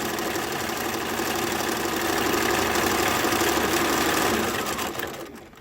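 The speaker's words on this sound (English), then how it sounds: "Let's keep sewing away" A sewing machine runs in one continuous fast whir while chain piecing fabric masks, steady and close, then slows and stops at the end.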